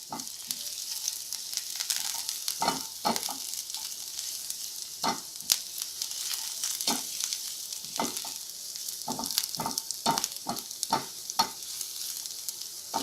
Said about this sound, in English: I've got my garlic, and I want to brown my garlic lightly.